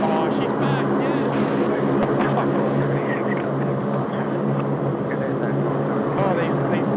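A Saab turboprop airliner taxis at Sydney Airport, its steady, loud propeller drone and engine whine holding constant throughout, with people talking nearby over the noise.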